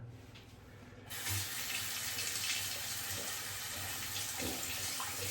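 Tap water starts suddenly and keeps running steadily into a bathroom sink while a razor is rinsed under it, a close, even splashing hiss.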